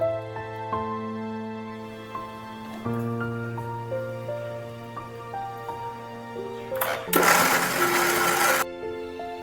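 An electric blender grinds spice paste for chicken bhorta, its motor whining in steady harmonic tones that shift pitch as the load changes, then bursting into a loud, harsh whir for a couple of seconds before settling back.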